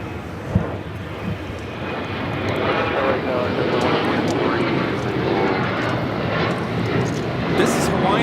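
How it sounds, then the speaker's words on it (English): A Hawaiian Airlines Boeing 787-9 Dreamliner takes off at Los Angeles, a building jet engine rumble at moderate distance that grows louder and holds, with voices talking over it. "This is Hawaiian Airlines Flight 3, taking off to Honolulu on the 787-9 Dreamliner"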